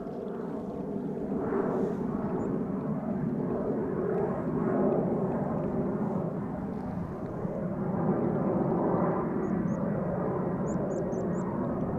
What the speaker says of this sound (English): You might also pick up on the sound of an airplane taking off.